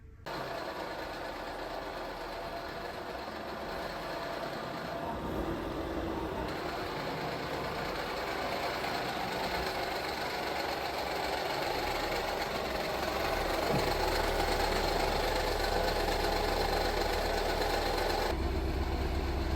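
A faulty 1.4 TSI engine idles steadily and continuously, a rough, uneven rumble with a faint irregular knock running underneath, no voices.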